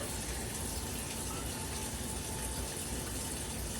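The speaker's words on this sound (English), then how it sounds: "definitely gotta wash your hands" Tap water runs in a steady, broad gush at a sink while hands are washed in a home kitchen, a constant rushing stream with no break and no talk.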